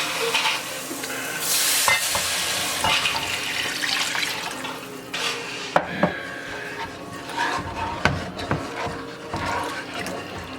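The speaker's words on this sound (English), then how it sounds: "And now we're going to add our chicken stock." Chicken stock poured into a pot of coated onions and stirred, a splashing, hissing pour followed by scraping stirs and bubbling sizzle, close and moderately loud, with no talking.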